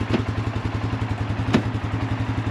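An ATV idles with a steady pulsing engine chug while its gear selector shifts, marked by two sharp clunks, one near the start and one midway.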